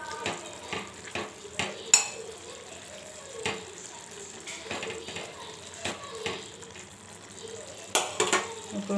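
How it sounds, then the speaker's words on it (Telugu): Curry stirred in a pan after the lid comes off, with repeated scraping and clinks of a spoon against the metal over a low sizzle, irregular and close. "ఇప్పుడు మధ్యలో ఒకసారి మూత తీసి మరొకసారి కలిపేసుకోవాలి."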